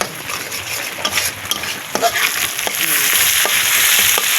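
Crumbled egg sizzles in a frying pan while a utensil stirs it, with a bright constant hiss and irregular scraping knocks against the pan, close by and without talk.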